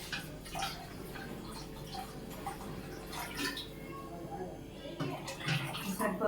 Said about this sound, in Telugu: ఇంకొన్ని వాటర్ వేసుకుంటానండి.